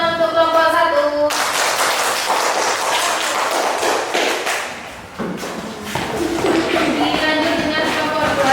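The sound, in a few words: class clapping for group 1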